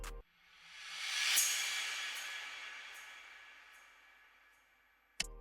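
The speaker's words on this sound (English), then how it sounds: "the last thing we've added to the intro of the loop is just a riser and a crash" A noise riser swells over about a second into a bright crash that slowly decays in a loop intro, ending with a short thump as the next part starts.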